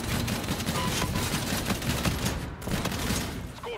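Rapid video game gunfire from a powerful two-shot-kill weapon, dense bursts of shots crackling loudly and continuously with a brief lull near the end.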